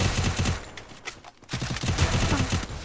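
Rapid bursts of gunfire from the Free Fire mobile shooter, loud and close, come in dense automatic volleys with a short lull in the middle.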